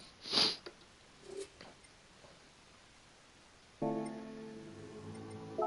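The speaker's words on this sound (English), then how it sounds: "I have to excuse the sniffling." A runny nose gives a loud, close sharp sniff, followed by a fainter second sniff, and then a steady engine-like hum comes in toward the end.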